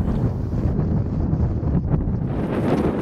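Storm wind on high seas buffets the microphone during a kayak trip. It makes a loud, continuous roaring rumble that swells and dips slightly, with no voices.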